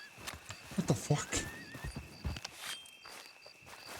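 Horse in the Western roleplay game GoldRush RP, a brief whinny and a few close hoof clops mixed with someone talking over them, fading into quieter background.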